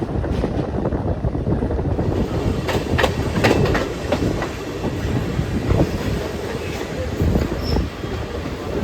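A Tirupati MEMU express train rolls along the rails between Chennai and Tirupati, with a loud, continuous rumble, rhythmic wheel clatter and occasional squeals heard from on board.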